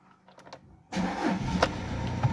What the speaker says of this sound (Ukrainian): Щоб глянули, як автомобіль заводиться.